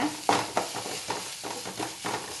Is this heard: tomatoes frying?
yes